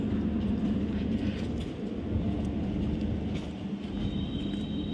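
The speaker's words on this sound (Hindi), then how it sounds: "ये सामने मेमो ट्रेन लगी हुई है" A MEMU train standing at platform 1 of Subedarganj railway station, with a steady low rumble and hum of the idling train filling the platform throughout, moderately loud and constant.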